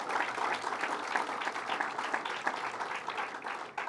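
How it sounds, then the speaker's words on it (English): A round of applause breaks out at a public meeting on zombie properties in Hauppauge: dense, quiet clapping from the audience that stays fairly even over a few seconds. "let's give him a round of applause"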